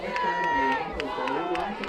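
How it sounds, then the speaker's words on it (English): A crowd roars steadily at a high school varsity football homecoming game between White Swan and Highland, a dense, loud wash of cheering and voices with rhythmic pulses, heard under a commentator's talk. "the crowd is loud"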